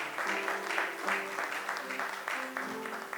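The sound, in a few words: audience applauding and cheering in church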